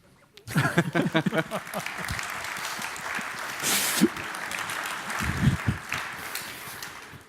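After a tech talk on Windows Server, a conference audience breaks into clapping that rises quickly, then continues unevenly with a few louder bursts and some voices.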